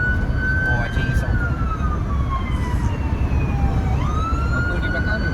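A police car siren wails behind a moving car, its tone sweeping up and down loudly and steadily over a constant low road rumble.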